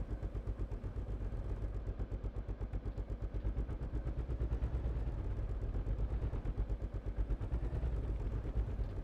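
Gunfire in the survival video game SCUM: a steady, rapid rattle of shots that keeps going without a break for the whole stretch, with no voices over it.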